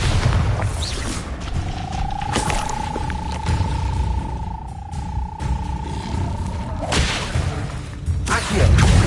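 A Bombarda spell cast in the Hogwarts Legacy video game, a whooshing magical streak with a sustained rising tone followed by a deep booming impact amid ongoing game effects.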